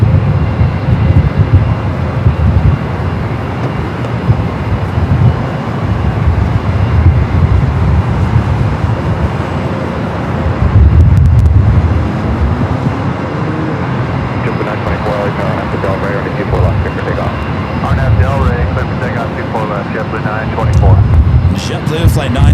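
A JetBlue Airbus A321 jet at Los Angeles airport gives a continuous low engine roar and rumble, fairly loud and steady, with a voice talking over it.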